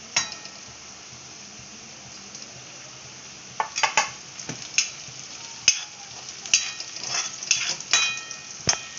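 Garlic and cumin seeds fry in hot oil with a steady soft sizzle, then louder scraping and metallic clinks of a spoon against the pan break in irregularly during the second half.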